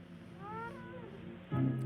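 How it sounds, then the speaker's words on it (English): In a 1959 science-fiction film, a cat meows faintly in a couple of drawn-out, wavering cries, followed by a fuller, louder meow, heard alone without speech. "Sounded like a cat."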